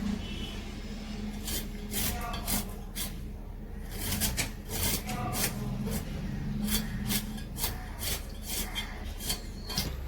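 Knife cutting beetroot and potato into pieces on a board in a home kitchen, a steady series of sharp close chops and taps over a constant background hum.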